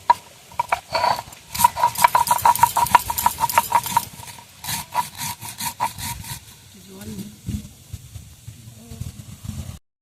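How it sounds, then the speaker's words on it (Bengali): Mustard seeds and black cumin being ground into a fine paste on a grinding stone at home, giving rhythmic, repeated scraping and rubbing strokes, strongest early and thinning out later, with some talk. "একদম মিহি করে বেটে নেব সর্ষে আর কালো জিরে।"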